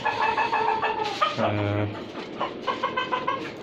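Chickens cluck and call close by in a small caged backyard poultry farm of native hens and roosters, several birds sounding in quick overlapping bursts.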